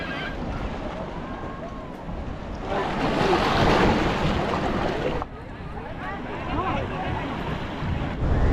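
Sea waves at Shivrajpur beach near Dwarka roar as a steady surging wash, swelling louder midway, with wind buffeting the microphone and faint voices underneath.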